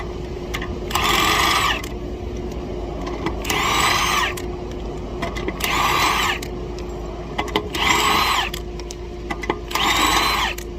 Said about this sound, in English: I'm going to use my impact with a 17mm socket on it